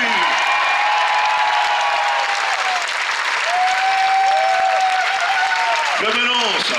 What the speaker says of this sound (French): Vous applaudissez Thibaut Vauchel-Camus.